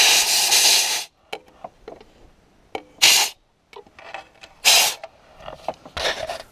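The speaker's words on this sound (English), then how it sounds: "We need to blow it and clean it with a compressor" Short bursts of compressed air hiss loudly around the spark plug wells of an engine, three or four strong blasts separated by quieter handling noises and clicks.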